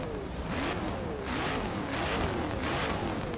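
A car engine in the racing game Forza Horizon 3, driven in a snowy Blizzard Mountain setting, revs up and drops back in repeated rising sweeps, fairly quiet under a constant hiss.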